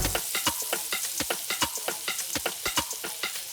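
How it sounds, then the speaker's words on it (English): Fish fries in a pan at an apartment complex, a loud close crackle of sizzling oil with rapid, irregular spits and pops throughout. "And we over here frying some fish"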